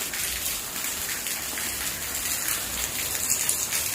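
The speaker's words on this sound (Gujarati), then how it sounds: "તો મસ્ત વરસાદ આવ્યો." Steady rain falls on surfaces nearby, a dense, even patter with scattered droplet hits throughout and no voices over it.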